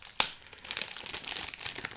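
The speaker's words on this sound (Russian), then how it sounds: "Пакет надо открыть. Весь скотчем каким-то" A plastic parcel sealed with tape, holding speed cubes, is worked open. A sharp crackle starts a steady run of soft plastic crinkling and rustling, quiet and close, with no one talking.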